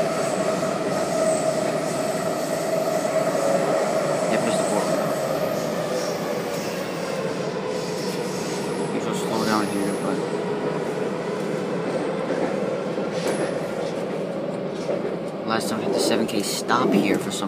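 Breda railcar 2047 on a metro line heading toward Gallery Place rumbles along steadily throughout, with a continuous rolling wheel-and-motor roar, faint rail squeal and occasional clanks; a voice speaks briefly over it.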